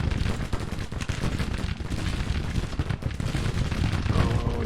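Dense, continuous rattling musket volleys crackle from a Civil War battle in Grand Tactician as dismounted troops open fire, a steady roar of overlapping shots with no gaps.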